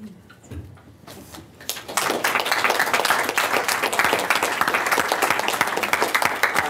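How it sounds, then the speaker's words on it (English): Audience applauding a panel of speakers at a public discussion on the struggle for housing, starting as a few scattered claps and swelling after two seconds into steady, full applause from the whole room. "we could also just applaud the labor of our speakers, again, collectively"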